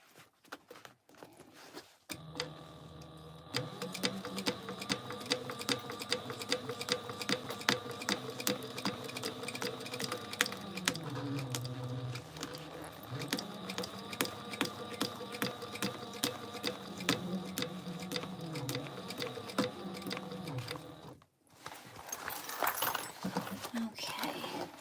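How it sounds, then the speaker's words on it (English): A sewing machine runs in steady bursts, top stitching a half inch seam along the sides of a backpack. The rapid mechanical needle rhythm is close and fairly loud, with brief pauses between runs. "we're gonna do a half inch top stitch here"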